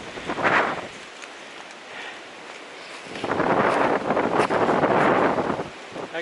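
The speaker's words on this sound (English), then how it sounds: "Still nice and windy." Wind gusting across a mountain trail in the Smokies on Thunderhead, a steady rushing roar that swells into a stronger buffeting gust midway, close and fairly loud against the microphone.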